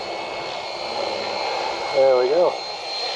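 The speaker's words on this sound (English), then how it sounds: "So this is my first flight with a helicopter." A Fly Wing 450L V2 RC helicopter lifts off in GPS mode outdoors in a breeze, its steady high-pitched rotor and motor whine droning near and loud throughout, with a brief spoken remark near the end.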